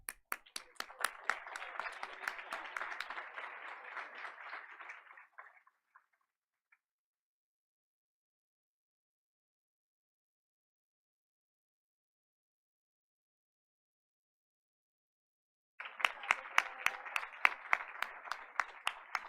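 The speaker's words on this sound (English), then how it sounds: "Let's keep the applause going" Applause at a Board of Education meeting: a crowd claps steadily for about five seconds and trails off, then after a long silence a fresh burst of clapping starts up again.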